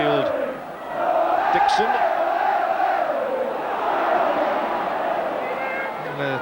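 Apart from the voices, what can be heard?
rugby league crowd roaring at Leeds v Featherstone match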